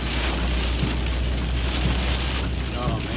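Rain and hail pound on a vehicle during a tornado-warned storm in Arkansas, a dense, constant roar of impacts mixed with wind noise that holds steady throughout, with no clear voices.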